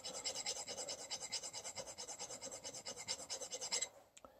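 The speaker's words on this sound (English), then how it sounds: "So I just got a file, and I'm just taking the key and I'm rounding the edges." A hand file rasps back and forth across the edges of a metal key during a PTO snow blower repair, a close, steady rhythm of quick scraping strokes that stops abruptly near the end.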